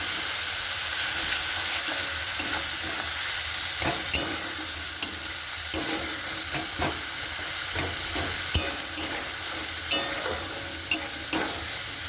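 Spice masala with salt being stir-fried in a pan, a continuous soft sizzle under repeated scraping strokes of a spatula, with clicks scattered through, close but fairly quiet and with no talking.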